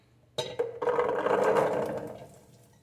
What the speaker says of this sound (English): And now we're going to get everything poured into our pan.